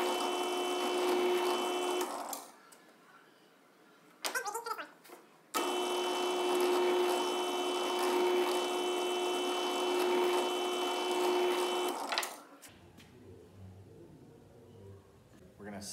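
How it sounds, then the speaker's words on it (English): A drill press whines steadily as it drills holes through a part for a washers game, running in two long bursts separated by a short pause, with a quieter stretch at the end. "Make sure you have your safety glasses on when you're drilling on the drill press."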